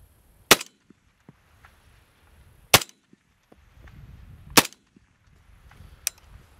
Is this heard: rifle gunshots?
yes